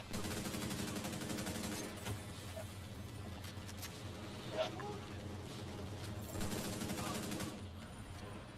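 Video game gunfire crackles in a dense, continuous stream of fusillade and machine-gun bursts, steady and mid-distance, with players' voices talking over it.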